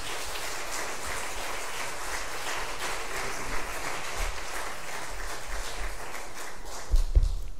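Church congregation applauding to welcome a visiting pastor at a revival service, soft, even clapping heard from a distance, steady throughout, with a few closer thumps near the end.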